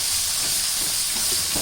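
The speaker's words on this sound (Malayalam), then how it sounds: "ഇനി അതിൻ്റെ കൂടെ തന്നെ വെളുത്തുള്ളിയും ഉള്ളിയും നമ്മൾ തളിച്ച് നോക്കുക. നന്നായിട്ട് ഇളക്കി കൊടുക്കല" Garlic and onion sizzle in a hot pan with lemon pickle as they are stirred, a loud, dense, steady hiss with faint scraping underneath.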